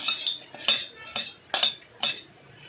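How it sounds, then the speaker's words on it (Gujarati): Chopped almonds go into hot ghee in a kadai for kheer, giving five separate metallic clinks and scrapes of a spoon against the pan at a slow, uneven pace, close and fairly quiet. "ગરમ થઈ ગયું છે તો હવે આપણે નાખશું તેમાં કાપેલી બદામ, બધી જ બદામ નાખી દઈશું"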